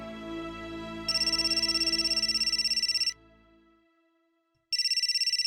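A phone ringtone signals an incoming call, ringing in two bright, rapidly pulsing bursts separated by a short pause, over a soft musical background in an indoor drama scene.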